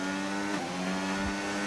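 An Alpine race car in a racing video game on the Baku circuit, its engine droning steadily at close range with a brief pitch sweep as it passes.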